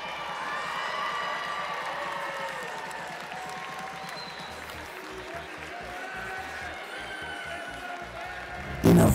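A large audience at a championship robotics festival claps and cheers in steady, sustained applause heard from within the crowd, with a voice speaking over the start.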